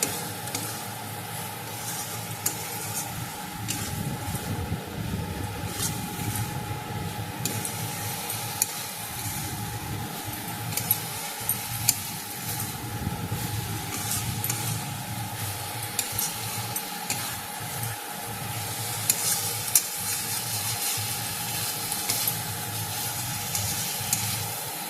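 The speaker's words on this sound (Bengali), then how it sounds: "এখন আমি ভেজে রাখা সবজিগুলো দিয়ে দেব। একটু সময় আমি নাড়াচাড়া করে নেব।" Fried vegetables, cauliflower and potato for an Indian curry, being stirred in a hot pan: steady sizzling and frying with scraping stir strokes throughout, close and continuous, no talking.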